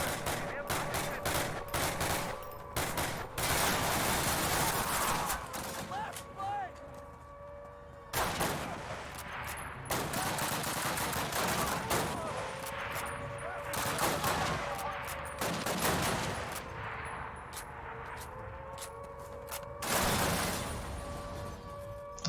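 Rapid rifle fire from M1 Garands crackles through a World War II battle in Call of Duty, loud dense volleys and single shots repeating throughout, with explosions and game effects underneath.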